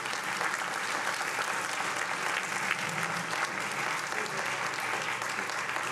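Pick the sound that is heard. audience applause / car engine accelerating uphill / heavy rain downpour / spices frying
audience applause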